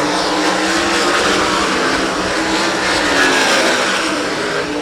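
Sprint cars racing at 34 Raceway during heats and dashes, a loud, dense, continuous engine roar from several cars at once, with no break throughout.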